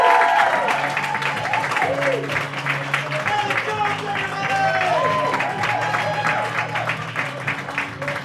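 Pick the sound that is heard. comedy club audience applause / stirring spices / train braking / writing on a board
comedy club audience applause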